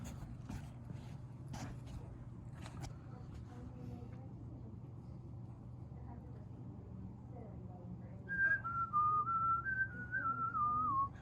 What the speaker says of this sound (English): I better not whistle any tunes